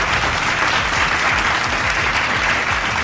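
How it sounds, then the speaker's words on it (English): Loud, dense applause from the audience at a secondary school debate final, sustained clapping that fills the whole moment without pause. "Round of applause, please."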